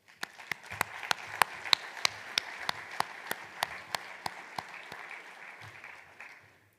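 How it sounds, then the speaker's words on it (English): An audience at a conservation districts' annual meeting claps steadily, sharp individual claps standing out over a dense wash of applause that fades near the end. "Give yourselves a big round of applause."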